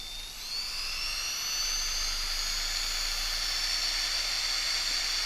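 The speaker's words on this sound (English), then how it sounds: "I drill a 3/32 inch pilot hole" A steady high-pitched whine of a power drill boring a 3/32 inch pilot hole on a sailboat, running continuously, loud and close, with no talking.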